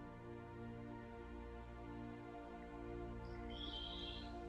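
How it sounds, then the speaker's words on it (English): A pet bird chirps indoors, high thin calls appearing late and briefly against steady low room hum, fairly faint and alone without talk. "You have a bird? Sorry. I do. Yes, that's who you hear."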